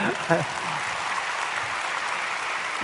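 Applause from a church congregation during a Saturday morning worship sermon fills the room as a steady, moderately loud wash of clapping, with a brief louder burst near the start.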